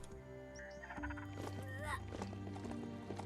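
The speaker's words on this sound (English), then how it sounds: "It's like riding around on an undead horse, except it's all mechanical." A mechanical undead horse in the video game Last Worldeater clip-clops along with rhythmic hoofbeats and a brief neigh, set against layered tonal game music.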